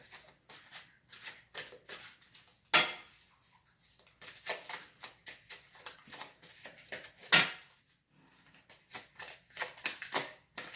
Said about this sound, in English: these cards are just not wanting to shuffle this morning